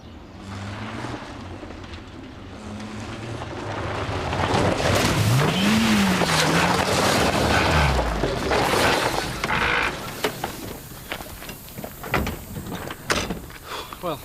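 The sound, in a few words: car engine revving and blowing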